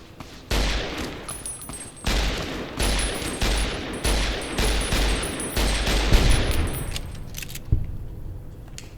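Gunfire in the video game Fallout: New Vegas, a run of sharp, punchy shots in a steady rhythm, some fired in quick bursts and others singly, loud and close with short gaps between, fading out at the end.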